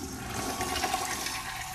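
A toilet flushes with a steady rushing, gurgling wash of water that lasts throughout, close and fairly loud.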